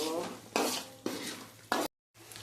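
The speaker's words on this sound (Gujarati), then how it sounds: "હવે પ્યુરીને એકદમ હલાવશું." Tomato puree for chhole is stirred in a pan, producing scraping strokes of a spoon against metal in a few quick, separate passes over a faint sizzle, with a short silent gap.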